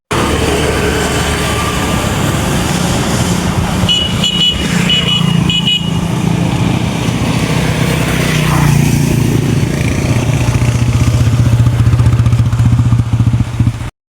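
Motorcycle being test ridden on a road, a continuous engine drone with passing traffic and a couple of short horn toots in the middle, loud and close throughout.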